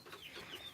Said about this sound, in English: my very first live stream inside a chicken coop